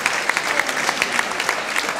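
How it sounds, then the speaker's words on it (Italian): An audience at a vocational music and song festival applauds steadily, a dense even clapping with scattered sharper claps throughout. "Applaudite, oh, così"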